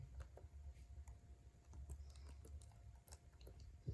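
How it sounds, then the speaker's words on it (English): Soft, irregular tapping of keys on a computer keyboard, close up and quiet, with no voices. "I'm typing some values here, any random values."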